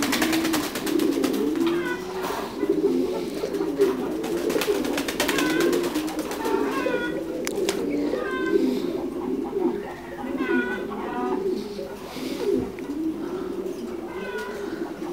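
Thai Titan meat pigeons cooing at a pigeon farm in Đắk Lắk, a crowded, continuous chorus of low throaty coos from many birds close by, with a few higher calls mixed in.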